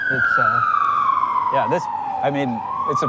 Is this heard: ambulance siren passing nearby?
yes